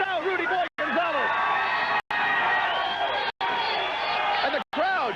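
Crowd at a Texas Wrestling Alliance wrestling match cheering and shouting loudly and continuously, with whoops and excited voices, cut by several brief silent gaps.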